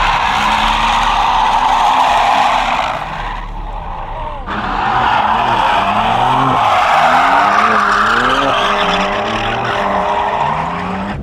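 Car drifting at the Ultrace 2024 auto show, loud sustained tire squeal and skidding with revving engine pitch rising and falling, close and dominating, briefly easing before resuming.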